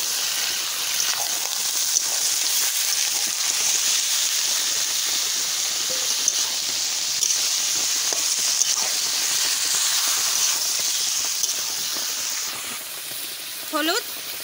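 Mutton dropped into spices frying in a pan gives a continuous steady sizzle with faint crackles throughout, loud and close.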